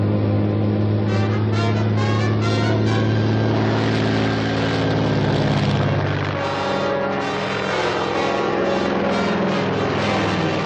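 Steady propeller airplane engine drone, loud and continuous throughout, with a slight change in pitch partway as the aircraft holds close by.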